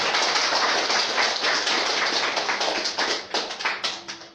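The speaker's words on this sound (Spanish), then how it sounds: "fuerte aplauso al Señor" A congregation applauds loudly during a Spanish-language church service, with dense, sustained clapping that thins into scattered individual claps near the end.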